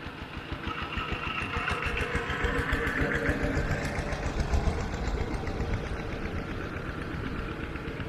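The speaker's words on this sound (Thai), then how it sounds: "รถไถนาเนาะกำลังขนอ้อยเนาะมาส่งโรงงานพี่น้อง" A heavy farm tractor engine rumbles steadily nearby for several seconds while hauling a full load of sugarcane to a sugar factory, a low chugging drone with a mechanical knock.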